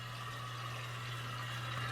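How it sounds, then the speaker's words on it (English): Splendide 2100XC washer-dryer filling with water, a faint, steady rush of flowing water under a constant low mechanical hum, with no talk. "Now that the water has stopped filling, you can see how high up it is."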